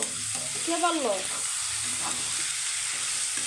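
Tomato with ginger-garlic paste frying in a pan for a Bengali fish chorchori, a steady close sizzle with soft stirring, and a brief voice-like sound early on.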